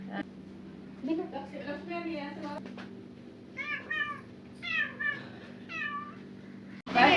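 A cat meows several times, close and fairly quiet, with short pauses between the calls over a faint steady hum.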